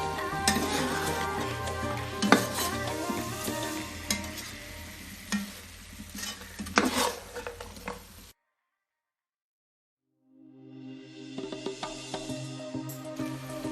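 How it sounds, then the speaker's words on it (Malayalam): Chicken 65 is stirred and tossed in a hot pan with steady sizzling and scraping spoon strokes. The sound cuts to silence for about two seconds, then the close sizzle resumes. "ഇനി നമുക്ക് നമ്മൾ മാറ്റി വെച്ച ചിക്കൻ 65 ഇത് ഇടാം. നല്ലോണം മിക്സ് ചെയ്ത് കൊടുക്കാം."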